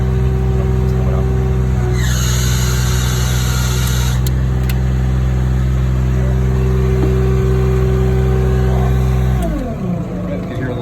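A steady car engine runs loudly throughout at a Spaulding crack kettle site, with a brief rev near the start, then drops off abruptly near the end as the engine is killed.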